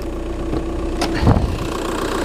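A Volkswagen Golf diesel estate engine with about 140k miles idling nearby with a steady low rumble, plus a brief thump or clunk partway through.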